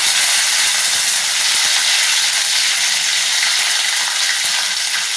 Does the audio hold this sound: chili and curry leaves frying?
yes